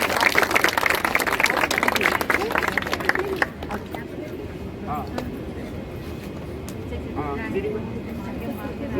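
An audience at a Ramlila rehearsal claps loudly for about three seconds, then the applause breaks off and scattered voices and crowd murmur carry on.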